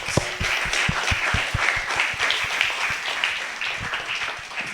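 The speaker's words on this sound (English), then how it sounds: "So give applause to Professor Eric" Audience at a university general lecture applauds the professor, a moderate crowd clapping with distinct individual claps standing out, continuing steadily throughout at medium loudness.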